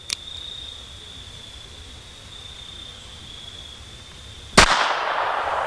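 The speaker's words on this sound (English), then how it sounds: "Now then, friends, let's shoot the gun" A single loud revolver shot rings out near the end, after a steady high insect-like whine and a faint click at the start.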